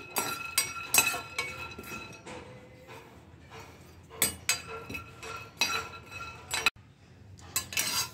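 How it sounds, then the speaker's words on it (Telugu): Chana dal dry-roasting in a pan on a low flame, with a spoon clinking and scraping against the metal in irregular bursts and quiet gaps between them. "ఫస్ట్ వచ్చేసి నేను శనగపప్పును వేయించుకుంటున్నా"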